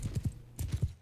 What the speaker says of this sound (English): Please don't lose my horses, they're expensive,